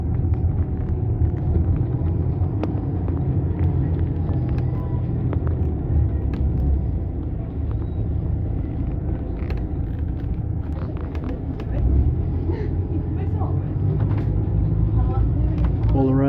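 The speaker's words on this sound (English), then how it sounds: "I'm on board the bus which is going to the statue" Riding aboard a city bus in Kristinehamn, Sweden: a constant low engine rumble and road noise fill the cabin, with scattered rattles and clicks throughout.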